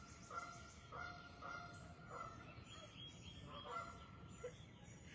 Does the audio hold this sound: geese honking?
yes